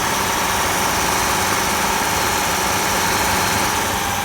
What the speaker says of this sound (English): now listen to the engine sound